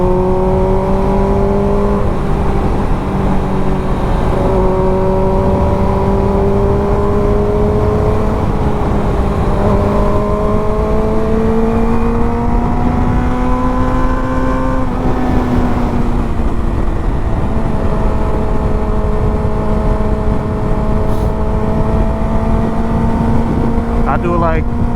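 A Suzuki GSX-R600 motorcycle runs laps on a local road circuit. Its engine drones loudly and continuously, the pitch rising and falling gently as it holds a near-constant speed.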